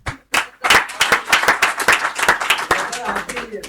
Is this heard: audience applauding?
yes